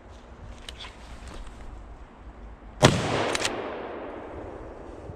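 A single hunting rifle shot fired at a wild boar during a driven big-game hunt, one sharp loud crack outdoors followed by a long rolling echo that fades slowly over quiet woodland ambience.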